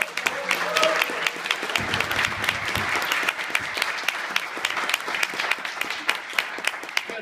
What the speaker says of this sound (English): how about one more big round of applause?